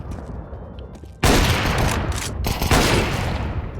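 Dense bursts of automatic gunfire in the online shooter WolfTeam on the Paien map, starting abruptly after a quieter stretch and continuing loud and sustained with a brief dip midway.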